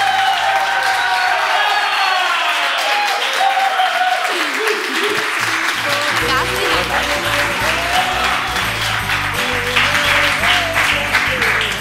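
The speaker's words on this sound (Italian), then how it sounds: "Non ho mai sentito un applauso così." A studio audience on a TV variety show breaks into loud, sustained applause with cheers and whoops for an arriving guest, filling the whole stretch continuously with a dense, close roar of clapping.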